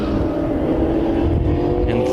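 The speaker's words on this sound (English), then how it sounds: "And 3 cars racing near each other for third." Toyota Southwest Superlate race cars roar steadily around Willow Springs International Raceway, a dense, continuous engine drone of several cars running close together, loud and unbroken.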